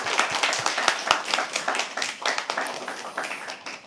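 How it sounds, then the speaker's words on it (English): Audience members at a live poetry open mic at The Habitat clap together, a brisk, close, irregular patter of many hands that stays fairly loud throughout before easing slightly near the end. "Can we all clap for them once, please?"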